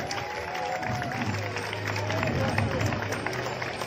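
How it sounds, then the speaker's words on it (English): An outdoor audience at a Pinkathon running event applauds chief guests and a school with their teachers, steady clapping and scattered cheers forming a dense, continuous wash of crowd noise with voices mixed in. "A big round of applause for our chief guests and for City Bright School and their teachers."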